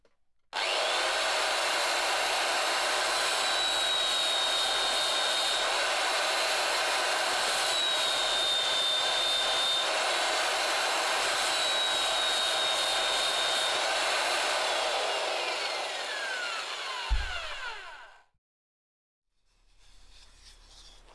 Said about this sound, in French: Maintenant, je vais poncer le dessous et ça sera bon.